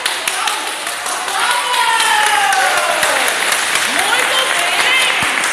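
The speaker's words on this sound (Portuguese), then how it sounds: "Aplauda essa verdade." An audience claps steadily and densely for several seconds, with scattered shouts and someone speaking loudly over the applause.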